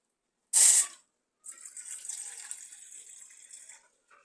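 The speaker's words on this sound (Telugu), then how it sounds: "మనం బౌల్ పెట్టుకొని అందులోకి అయితే మీకు ఎంత కావాలో అంత వాటర్ వేసుకోవాలి" Water runs in a short hissing burst, then a steadier pour follows for a couple of seconds into a bowl set on a gas stove, close and clear with no speech.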